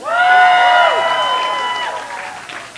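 A convention panel audience bursts into loud cheering, whooping and applause that peaks quickly then slowly fades, the crowd close and full-sounding.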